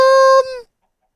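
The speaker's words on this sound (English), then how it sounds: "Why are there so many chickens?" A single chicken in the Minecraft Tekkit 2 video game gives a loud, close cluck that ends abruptly in silence.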